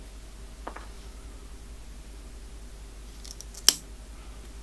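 Pruning shears snip a stub on a Schefflera banyan-style bonsai: a light click early, then one sharp, close cut a few seconds later in a quiet room.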